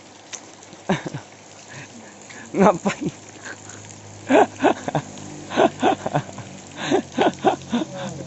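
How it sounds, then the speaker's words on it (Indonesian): Rain falls on a jungle trip in West Kalimantan near Gunung Bentuang, a steady hiss under a voice, with irregular louder splashes and clunks close by. "Kena hujan guys."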